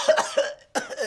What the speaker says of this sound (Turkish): Ne yuttırıp öksürüyorsun ya?